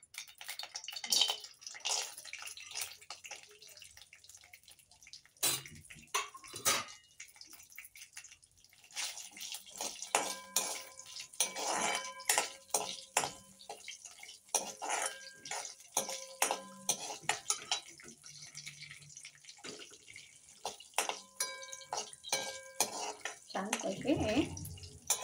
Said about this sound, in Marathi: मग त्याच्यात हे काजू गरम करून काढणार आहे.